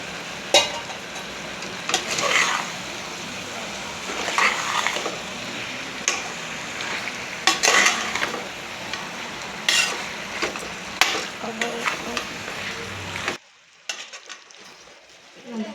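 Broad beans tumble into a hot pan for a mutton kurma, setting off a steady close sizzle broken by repeated scraping stirs, then dropping to a quieter hiss at the end.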